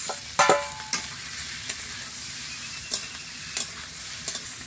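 Onion, chopped green chillies and vegetables frying lightly in a pan for a village-style leftover-rice pulao, a soft steady sizzle broken by sharp spatula knocks and scrapes at irregular intervals, close by, without talk.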